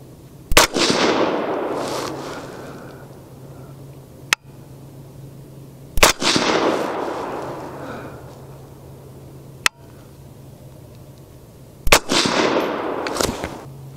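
Three sharp, loud rifle shots from a 6.5 Grendel AR15 with an Aero Precision build and 18-inch Odin SPR barrel, fired at a range, each crack followed by a decaying echo, spaced several seconds apart.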